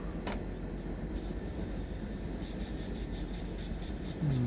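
DB 463 electric locomotive in the Train Sim World 6 game, a steady broadband rumble of running train and rail noise with a brief high whine near the start and faint repeating tones later, continuous and close.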